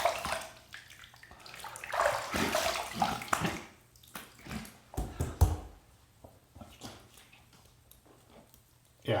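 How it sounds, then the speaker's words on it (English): Tap water splashes and runs in bursts while a face is rinsed after a safety razor shave, with gurgling splashes rising and falling close to the microphone. "All right, let me rinse again."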